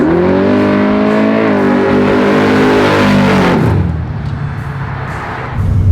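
Loud, close high-rev howl from a 700hp all-motor big-block Camaro, the pitch climbing and holding before falling off to a heavy, choppy idle burble, then a brief rise in throttle at the end.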